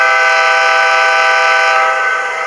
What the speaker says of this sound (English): stereotypically diesel locomotive whistle